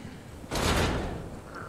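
A door in Resident Evil 4 Remake swings open in a single short whooshing, scraping burst that fades quickly, with no voices over it.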